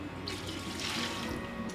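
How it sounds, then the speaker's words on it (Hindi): Water runs steadily into a pot of mutton (goat meat) being cooked for curry, a continuous close splashing pour with no voices. "पानी हम इसके अंदर इतना डालेंगे जिसके अंदर के मटन गल जाए"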